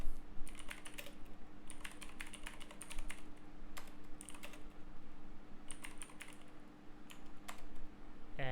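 Close, moderately quiet typing on a computer keyboard while a command is entered, with bursts of quick key clicks separated by short pauses across the whole stretch.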